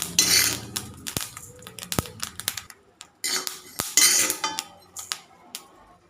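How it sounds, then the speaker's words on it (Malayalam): Roasted fenugreek seeds are scooped from a pan with a metal spoon, bringing a string of sharp scraping clinks and taps of metal on metal, close and irregular, with short pauses between strokes. "നമുക്ക് ഉലുവയും പെട്ടെന്ന് തന്നെ കോരി മാറ്റി വയ്ക്കാം."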